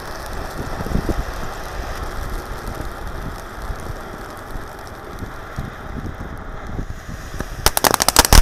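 A jumbo paper firework fountain sprays continuously with a dense, crackling hiss that holds steady for several seconds, ending in a cluster of sharp pops and crackles.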